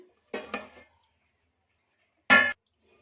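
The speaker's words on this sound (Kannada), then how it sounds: "ಈಗ ಕೇಕ್ ಪಾತ್ರೆನ ಇದರೊಳಗಡೆ ಇಡೋಣ" A hot kadai used as an oven is opened and a cake pan is set inside, making two short metallic clanks about two seconds apart, close and distinct in an otherwise quiet kitchen.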